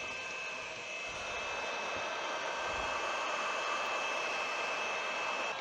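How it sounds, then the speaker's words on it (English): Hot air rework station blowing heat onto a MOSFET on an EVGA GTX 970 graphics card, a steady soft airflow hiss with a faint high tone, continuous and fairly quiet. "Now I'll try to heat up the MOSFET and remove it."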